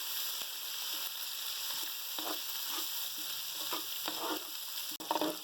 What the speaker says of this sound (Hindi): 1 मिनट तक हम अदरक लहसुन फ्राई करेंगे गरम मसाले के साथ।